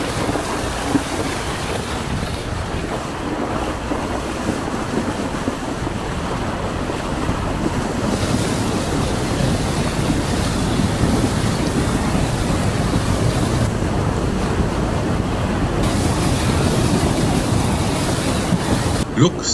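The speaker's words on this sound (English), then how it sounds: "For this we have to cross the river again." An overland vehicle fords the Runde River in Gonarezhou National Park, Zimbabwe: a loud, continuous rush of churning water and engine rumble with heavy wind buffeting throughout.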